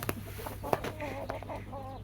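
Soft, scattered clucks and short murmuring calls come from a few small silkie chickens, including young roosters, kept in a home flock, quiet against a low background drone.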